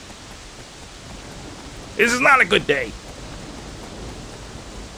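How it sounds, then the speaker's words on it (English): Steady rain falls in the Sleeping Dogs video game, an even hiss throughout, briefly overlaid by someone speaking. "It's raining."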